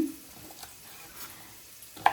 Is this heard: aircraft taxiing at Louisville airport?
no